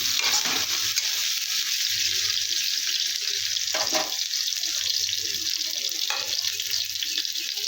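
Pumpkin, green chili and onion frying in hot oil in a pan, a constant close sizzle with a few louder scraping stirs now and then.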